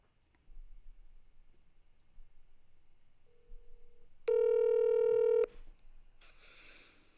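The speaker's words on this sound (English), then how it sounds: "So let me go ahead and get Danny on the phone." A telephone is dialed to place a call: faint handling clicks, then a short single tone, a loud sustained dial-tone burst, and a brief hiss of connection afterward.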